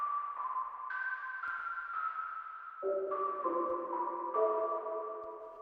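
Airdrops preset on a Korg Multi/Poly analog-modeling synthesizer: soft, bell-like sustained tones step through a slow sequence of chord changes, shifting from a higher register down to a lower one, played alone without any talking.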